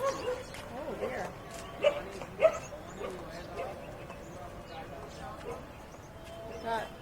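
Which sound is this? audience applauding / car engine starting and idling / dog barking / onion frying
dog barking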